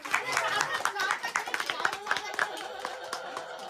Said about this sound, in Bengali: হাততালি, সবাই হাততালি দেবে।